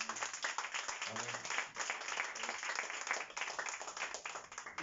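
Church congregation applauding at a Spanish-language service, a steady wash of many hands clapping at moderate loudness, with murmured voices mixed in.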